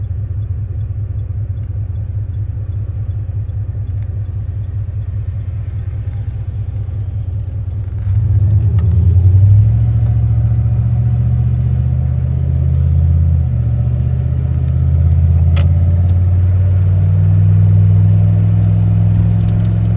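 A 1995 Dodge Ram V8 with a welded Thrush muffler driving on the highway, a steady loud in-cab drone and exhaust rumble that swells as it accelerates about halfway through, with no talking.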